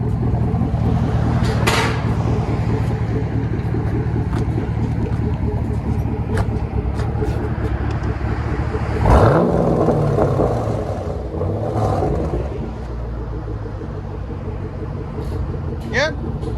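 Chevy Camaro 6.2L SS V8 running with its mufflers removed, a loud, close, continuous deep rumble with one sharp rev surge around the middle and smaller blips after, while people talk over it.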